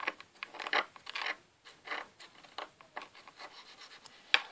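A blade rubs and scrapes at a surface while a Japanese crêpe is being made, giving a run of close, short rasping strokes that vary in loudness, with no speech.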